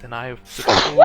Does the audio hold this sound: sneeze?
yes